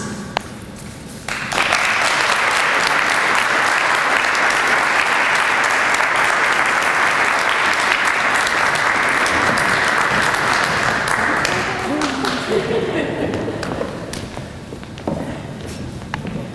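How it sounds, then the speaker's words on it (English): An audience at the Mount Clemens State of the City address applauds the mayor, with sustained loud, dense clapping from a large crowd that fades slowly over about fourteen seconds. "Can we give Mayor Laura Kropp another round of applause?"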